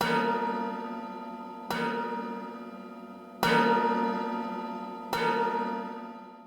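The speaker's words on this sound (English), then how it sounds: "we've got lots of bells. And a lot of them are called china bells" Four evenly spaced metallic strikes on china bells and metal percussion, each ringing out with a long shimmering bell-like decay before the next hit; no talking.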